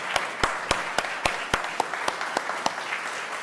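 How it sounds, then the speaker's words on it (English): Holiday concert audience applauding a choir director, with sharp, regularly spaced claps ringing over a steady wash of clapping, moderately loud and fairly close, no talking. "If we can please show some applause and appreciation for Sherry Richards"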